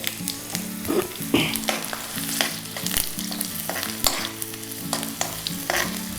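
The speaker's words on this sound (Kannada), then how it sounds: "ಸ್ವಲ್ಪ ಜೀರಿಗೆ ಹಾಕ್ಕೊಳ್ತಾ ಇದ್ದೀನಿ" Cumin seeds sizzle in hot ghee for a vegetable upma tempering, a bright continuous frying crackle with intermittent stirring scrapes, close and clear with no voices.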